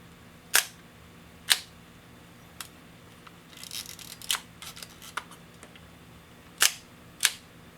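An Ihagee Exakta VxIIb camera shutter fires on its bulb setting, giving several sharp mechanical clicks in pairs with a rustle of handling between them, close and distinct.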